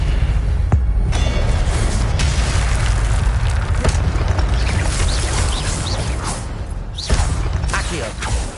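The Incendio fire spell cast in Hogwarts Legacy on PS5, a dense rumbling whoosh of flame and mechanical noise with a few sharp bursts, loud and continuous throughout.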